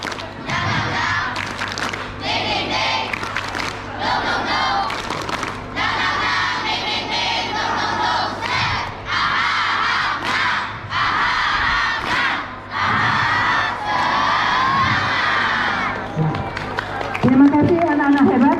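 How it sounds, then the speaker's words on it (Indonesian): A group of schoolchildren shouts the tepuk semangat clap chant together, loud rhythmic bursts of voices with clapping, close and energetic in a classroom setting. "mari kita tepuk semangat satu kali"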